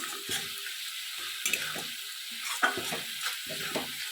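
Ground cumin and coriander powder fry in a pan for a bathua greens chorchori, a steady close sizzle broken by repeated scraping stirs of a spoon, with no talk.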